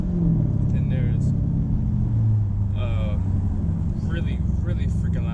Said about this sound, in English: really freaking loud M3